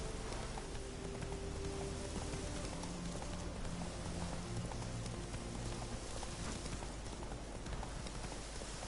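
Horse hooves galloping in The Witcher 3, a steady rapid clip-clop running through the whole stretch under a constant bed of game ambience and a low music hum.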